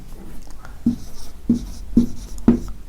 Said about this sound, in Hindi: लिखते हैं उदयन